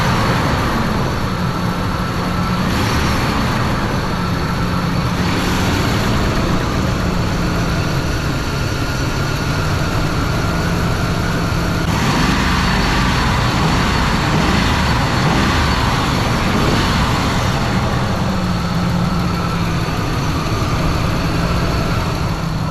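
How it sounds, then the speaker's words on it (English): An SUV engine in poor condition, with bad motor mounts and oil spilled on it, runs steadily and rises in a few throttle revs, loud and close, with no talking. "See what happens when I give it throttle."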